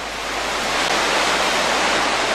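The Sandy River rushes through its new channel after a dam removal, a loud, dense and continuous roar of water with no pauses and no voices.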